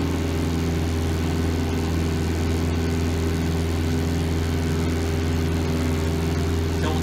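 A tractor runs steadily with a Peruzzo Elk Cross 1600 offset flail mower while mowing pond banks, giving a loud, continuous low engine drone and mower hum throughout with no talking.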